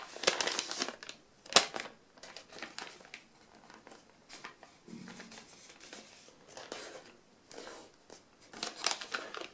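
Sheets of origami paper are handled and folded for a Pegasus model, giving a run of short crisp crinkles, creases and rustles in uneven bursts, close and fairly quiet, with no voices.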